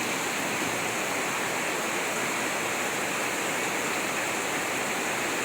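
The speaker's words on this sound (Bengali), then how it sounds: "পাতাবাহারের পাতার উপর বৃষ্টি পড়তেছে" Steady rain falls on croton leaves in a home courtyard at the end of the monsoon season, a dense, even wash of hiss and patter that stays loud and unbroken throughout, with no voices.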